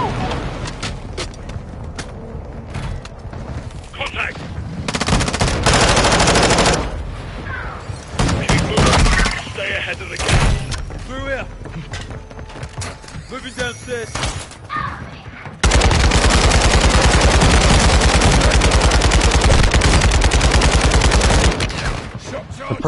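Gunfire in the Call of Duty MWII video game crackles in repeated loud bursts and heavy sustained volleys, with voices calling out between and over the shooting.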